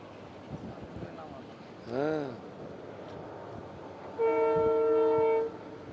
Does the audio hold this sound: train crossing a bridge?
yes